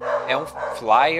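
A dog barks in the background of a room, its yips and woofs partly masked by someone talking steadily over them.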